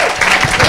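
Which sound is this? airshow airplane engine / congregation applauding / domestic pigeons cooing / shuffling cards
congregation applauding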